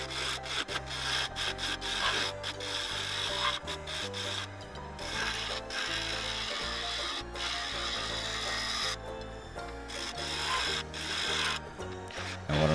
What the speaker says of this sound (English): Now I've moved over to my little bowl gouge again, and I'm trying to refine this a little bit more.